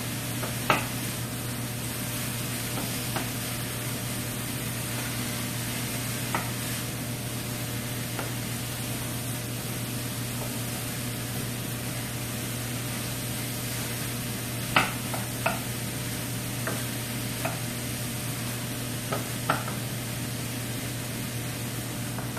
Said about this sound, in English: I can hear the tomatoes starting to get that like high-pitched, sizzly squeal.